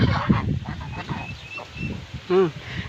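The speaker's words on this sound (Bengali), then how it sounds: "আর আমার টার্কিগুলো সবগুলো যে এখানে আইসা পড়ছে" Turkeys kept inside a shed during a sudden rainstorm let out a brief, loud, honking call near the end, after a stretch of people talking and quieter shuffling.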